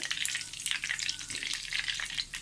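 Tapioca fritter ingredients dropped into hot oil crackle and spit briskly, a dense, busy sizzle of short pops close by, with no voices.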